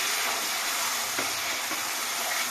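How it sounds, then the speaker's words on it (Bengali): Turkey meat curry sautés in a pan with added water, giving a steady hissing sizzle with a couple of faint stirring knocks, close and continuous. "জল দিয়ে এটাকে একটু কষিয়ে নেব"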